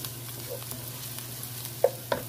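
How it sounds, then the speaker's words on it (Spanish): Onion and garlic frying in a pan for a sofrito, a low steady sizzle with a couple of light stirring clinks near the end, close by and fairly quiet. "Cuando el ajo comienza a dorarse, vamos a agregar la cebolla. Y sofreímos hasta que la cebolla se torne transparente."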